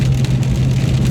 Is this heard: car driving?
yes